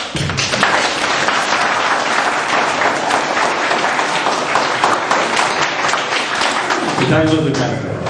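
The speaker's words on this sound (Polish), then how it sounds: "Brawa, brawa!" Loud, sustained applause from a crowd, dense clapping filling the whole stretch, with voices and cheering showing through near the end.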